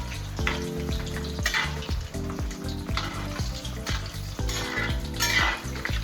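Chicken balls sizzle and crackle steadily in hot oil while a utensil stirs them, with repeated scraping knocks against the pan over a constant frying hiss.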